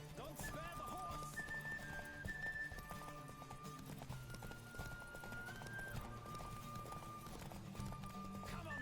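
Rapid hoofbeats of a galloping horse in The Witcher 3 drum on without a break, close and even, with a short whinny at the start and a little game music in the background.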